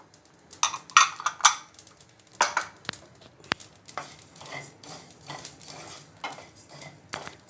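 Coriander seeds tipped into a hot kadhai and stirred while roasting for thalipeeth bhajani flour, giving scattered dry rattles, metallic clinks of a spoon against the pan and soft scraping bursts, fairly close and with no voices.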